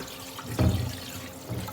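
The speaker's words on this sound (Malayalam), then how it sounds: "പരിപ്പ് നമുക്ക് വെള്ളമൊക്കെ ഒഴിച്ച് സെറ്റ് ചെയ്ത് വെക്കാം." Water is poured onto lentils (dal) in a kitchen pot to soak them, heard as one short splashing pour in the middle of a brief, quiet moment.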